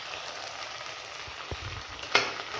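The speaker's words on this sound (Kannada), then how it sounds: "ಉದ್ದಿನಬೇಳೆ ಹಾಕಿ ಚೆನ್ನಾಗಿ ಹುರಿದ ಮೇಲೆ ನೋಡಿ ಕಾಯೆಲ್ಲ ಚೆನ್ನಾಗಿ ಹುರಿದಿದ್ದೀನಿ" Ridge gourd with urad dal frying in a pan: a steady soft sizzle throughout, with a brief stir or scrape near the middle and a sharp clink of a utensil toward the end.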